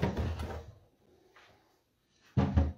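Wooden drawers slide out of a painted nightstand, a scraping rumble at the start, a quiet stretch, then another firm slide near the end, close by with no talking.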